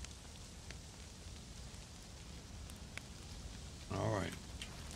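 Steady rain falls across Chernarus in the survival game DayZ, a soft continuous hiss with a brief voice-like burst near the end.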